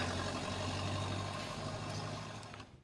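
A human voice imitates a friendly little blue truck's engine purring with a steady, low, buzzing hum lasting a few seconds, which slowly fades toward the end.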